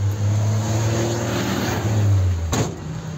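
A car, numbered 7372, pulls away with its engine revving in a steady low roar that rises slightly before cutting off sharply near the end, close and loud with no talk.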